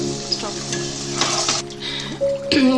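Paneer fries in oil in a pan, a close, steady sizzle with a few scraping stirs and light clinks of a utensil against the metal, with no voices.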